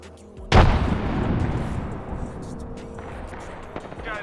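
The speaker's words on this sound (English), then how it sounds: "Throwing grenade." A grenade blast in the Apex Legends video game during a ranked arena match: one sudden loud boom near the half-second mark, then a long rumbling decay with game ambience continuing.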